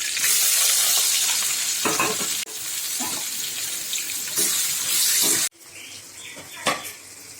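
Raw banana pieces fry in oil with mustard seeds and curry leaves, a continuous close hissing sizzle with a few stirring scrapes and brief pops, cut into separate bursts.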